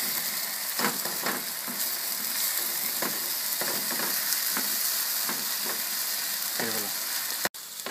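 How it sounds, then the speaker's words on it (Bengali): Egg fries in a pan with a constant loud sizzle while a spatula chops and scrapes through it in repeated sharp strokes, and a brief clatter comes near the end. "ডিমটা একটু শক্ত হয়ে গেলে আপনি ডিমটাকে কেটে দিন স্পেচালা দিয়ে"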